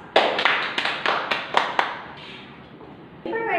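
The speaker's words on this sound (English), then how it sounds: "Let's give yourselves a round of applause." A small classroom group claps in a short burst of about seven sharp claps that fade out quickly, followed by a brief quiet stretch and a faint sound at the very end.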